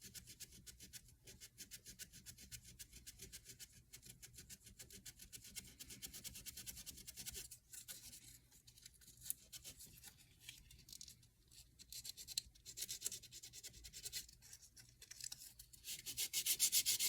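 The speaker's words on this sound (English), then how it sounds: "And use our sandpaper or your filing stick." Sandpaper or a filing stick rubs in quick, steady back-and-forth strokes, smoothing a surface up close and quietly, with short pauses between passes.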